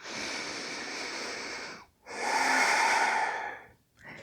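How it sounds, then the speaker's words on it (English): Two long breaths, in and then out, taken while holding a reverse plank yoga pose, close and steady, each lasting about two seconds with a brief pause between and a short third breath starting at the end. "Coming into reverse plank. Inhale and exhale."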